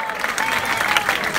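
A pub audience applauds a band member at the close of a concert, a steady dense wash of clapping that holds at even loudness throughout, with a faint voice or tone faintly underneath.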